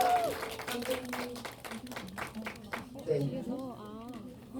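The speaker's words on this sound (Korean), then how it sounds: "여러분 뜨거운 박수 부탁드릴게요" Audience applause at a Korean film anniversary special GV screening in a cinema, welcoming the director and actor onto the stage; steady clapping from a crowd runs under a host's amplified talking throughout.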